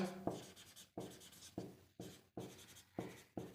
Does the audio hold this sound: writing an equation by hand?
yes